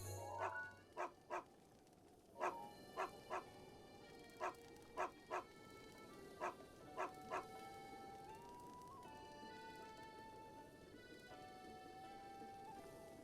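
A dog in Breath of the Wild, in the Great Hyrule Forest, gives a series of sharp, separate barks and yips at irregular intervals over soft ambient game music.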